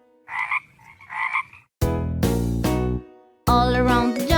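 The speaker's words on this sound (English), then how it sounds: "Oh, there's a frog." A jungle frog gives two short, close croaking calls, followed by loud, sharp bursts of a croak effect, with brief silence between them.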